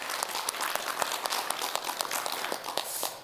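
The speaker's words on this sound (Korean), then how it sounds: "큰 박수로 청해 듣겠습니다" A studio audience on a Korean morning talk show claps steadily for a few seconds. The sound is a dense, even patter without any voices.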